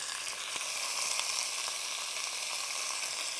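Chopped onion sizzling in a pan with browned meat for Neapolitan ragù, a steady dense hiss of frying heard up close, with a few faint stirring clicks and no talking.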